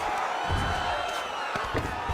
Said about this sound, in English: Oh, you can hear the crowd reaction every time he lands another hook.